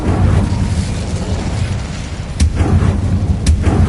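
An Incendio fire spell goes off in Hogwarts Legacy as a rumbling, roaring blast of fire that runs steadily, punctuated by two sharp cracking bursts near the end.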